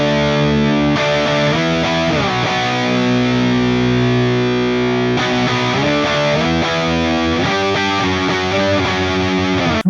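Electric guitar played through a TONEX amp model with a fuzzy, octave-laden distorted tone, sustained chords and bending notes ringing loud and dense, with a few pauses and restarts, no voices.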